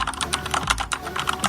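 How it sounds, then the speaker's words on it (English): Rapid, steady typing on a loud ASUS ROG pink limited-edition gaming keyboard, with close, crisp key clicks clattering continuously and no voices. "So it is quite a loud keyboard."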